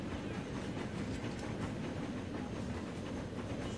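A train running on track in the Transport Fever video game, a steady rumbling roll with faint clickety-clack and hiss, continuous and moderately distant with no talking.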